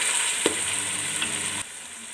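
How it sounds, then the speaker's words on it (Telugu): Ginger garlic paste frying in a pan for chicken dum biryani sizzles steadily up close, with a brief stirring clink early on, no talk over it. "అల్లం పేస్ట్ వేసుకున్నాక కొంచెం ఇలా వేయించుకోవాలి."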